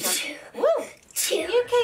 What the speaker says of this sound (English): sometimes they have a bit of a sneezing fit